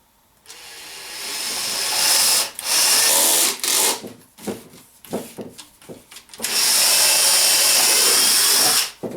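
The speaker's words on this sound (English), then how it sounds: "As I'm drilling my holes," Power drill boring holes into a wooden ammo box, whining loudly in long bursts with short stops and stuttering restarts in between, close and without talk.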